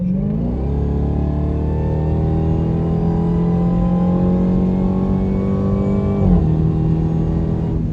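A Dodge Durango Hellcat accelerates hard, its loud, close engine roar climbing steadily in pitch and then dropping briefly near the end as a gear shift catches before the pull resumes.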